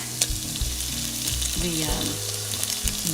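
Green chili peppers and jalapeno dropped into a hot pot with caramelized onions for green chili chicken and potato, making a loud close sizzle with stirring scrapes and a few clinks, no talking.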